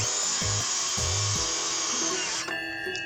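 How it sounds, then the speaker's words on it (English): A circular saw whines loudly and steadily as it cuts through wood, its pitch dropping near the end as the blade finishes the cut. "this circle saw has a nice little notch here"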